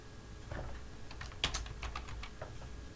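A few sparse keystrokes on a computer keyboard while entering data into database fields, soft clicks at an uneven rhythm with one sharper tap near the middle, close and quiet.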